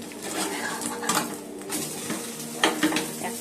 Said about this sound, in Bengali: ডিম ভাজছে এখন